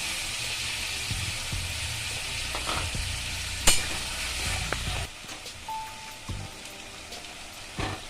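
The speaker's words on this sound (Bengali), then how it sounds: "এবার আমি এর মধ্যে দিয়ে দিচ্ছি বেটে রাখা পেঁয়াজ" Ground onion paste frying in a pan with prawns for chingri posto, giving a steady close sizzle with scattered stirring clicks that quiets partway through, no voices.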